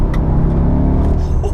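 An Audi SQ2 with a stage 1 map accelerates hard in third gear, a steady loud engine and road roar from inside the car, with a voice speaking over it.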